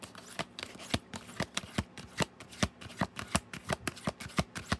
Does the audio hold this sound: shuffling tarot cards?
yes